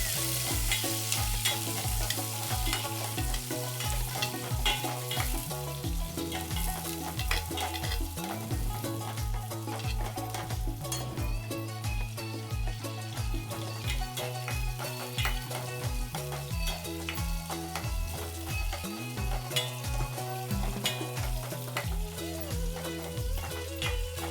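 Thinly sliced onions frying in hot oil with tempering spices and fenugreek seeds for Andhra pappu pulusu, a continuous close sizzle broken by regular scraping strokes of a spoon stirring the pan.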